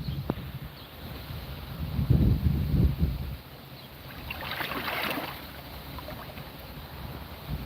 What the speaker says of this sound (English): And the wind is picking up.